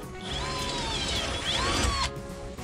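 A power drill whines close by, its pitch rising and falling as it bores into material, then stops abruptly.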